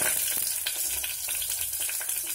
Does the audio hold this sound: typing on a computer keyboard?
no